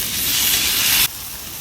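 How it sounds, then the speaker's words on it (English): Ribeye steaks hit a hot griddle with a loud, steady broadband sizzle close by that cuts off abruptly after about a second, leaving a quieter residual hiss. "Check out the sizzle when I drop these steaks on the hot griddle."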